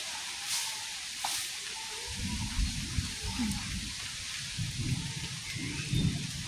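Steady rain hisses over a village fishing spot, a constant wash of falling drops with a few deeper low rumbles and thumps rising beneath it from the second second onward.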